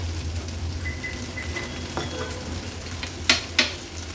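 Roasted okra is stirred in a hot pan with onions, sizzling softly and steadily, with a few sharp scrapes and clinks of the spatula near the end.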